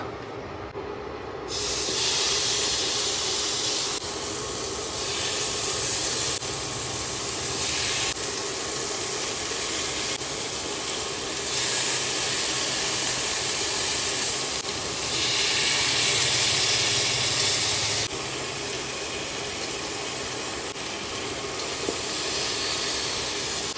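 Marinated chicken pieces are laid one at a time into a hot pan and fry in the marinade's oil with no extra oil added, giving a loud, steady sizzling hiss that swells in steps as more pieces go in.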